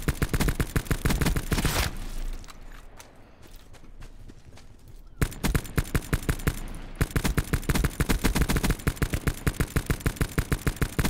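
Rapid bursts of automatic gunfire from the Call of Duty Blackout battle royale game, fired at a zombie, ring out loud and close in two long sustained strings. A quieter pause separates them.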